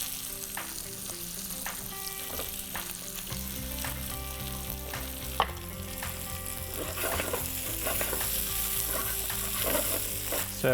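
Aubergine frying in a pan with a pinch of salt, a steady close sizzle with scattered pops and stirring scrapes throughout, growing slightly louder toward the end.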